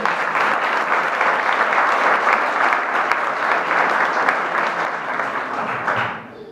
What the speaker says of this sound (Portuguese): Quantos podem dar uma salva de palmas ao Senhor?